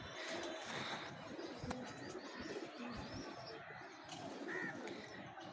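White Golden pigeon squabs coo softly and repeatedly close by, low throaty calls layered over a dense bed of other birds chirping all through.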